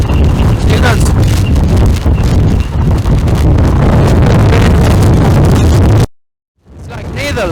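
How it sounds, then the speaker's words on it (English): Strong, steady wind buffets the microphone during a hike in the Scandinavian wilderness, a loud continuous low roar with gusty rustling that cuts off abruptly near the end before faintly returning. "and this is just normal wind."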